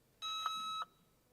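A single steady electronic recording beep from an emergency Alert button system, lasting just over half a second with a clear tonal pitch, heard alone in a quiet room.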